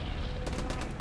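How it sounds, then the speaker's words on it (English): Distant machine gun fire from several gunners in the WWII shooter Hell Let Loose at Stalingrad, a rapid rattle of bursts over a low battlefield rumble, short and fairly faint. "Multiple machine gunners."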